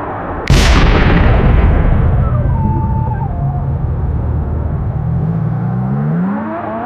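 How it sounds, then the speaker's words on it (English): A sudden loud blast in an AI-generated car crash, where a rear car strikes a Lamborghini, bursts into a broad roaring boom and then settles into a long rumbling fire-like roar that carries on to the end without any talk. "I love the fact that the explosion only happened when the car at the back hit the Lamborghini."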